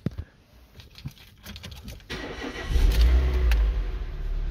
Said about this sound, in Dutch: Ik zal hem weer even starten.